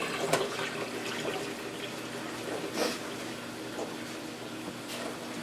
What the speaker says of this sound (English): Fill the rest of it up with cold water.